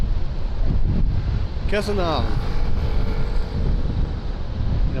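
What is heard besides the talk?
strong wind blowing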